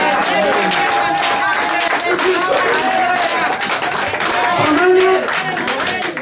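A church congregation claps and cheers for the Lord during a worship service, dense sustained applause and crowd noise filling the space, with voices and singing mixed in throughout.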